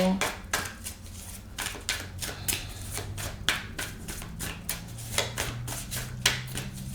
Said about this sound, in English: Let me just slow shuffle.